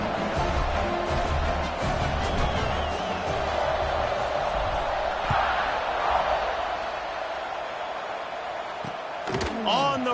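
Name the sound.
stadium crowd buzzing in the video game College Football 26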